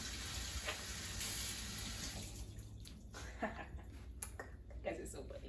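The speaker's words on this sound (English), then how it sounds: "I'm gonna wash my hands, even though I did before." Hands being washed with soap under a running tap, steady water noise throughout with brief splashes and rubbing sounds, a voice speaking over it.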